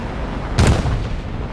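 Bombs dropped from an F-84 exploding on a base in the War Thunder video game, a single distant muffled boom rising briefly out of a steady engine drone, no talk.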